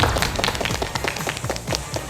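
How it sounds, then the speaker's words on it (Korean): Studio audience at a televised quiz show clapping in steady congratulatory applause, many hands patting quickly and evenly, close and fairly loud throughout. "축하의 박수 부탁드립니다."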